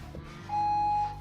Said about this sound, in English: Beep, there you go, time's up